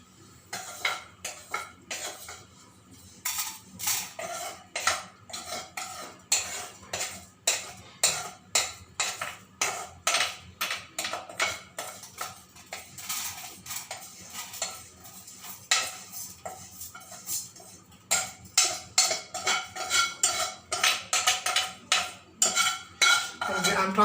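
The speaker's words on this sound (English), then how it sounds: "I'm transferring all this into another vessel, because this pan we can use it for other process." Cooked vermicelli upma gets scraped out of a pan with a metal spoon, a long run of rhythmic clinks and scrapes against the pan, some faster and louder stretches, with a faint sizzle underneath and no talking.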